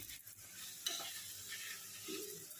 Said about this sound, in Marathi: तांदूळ टाकून पूर्ण परतून हा हलवते